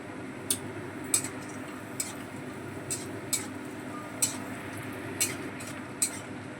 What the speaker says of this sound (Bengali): বড়িটা আমরা তেলে লাল করে ভেজে নেব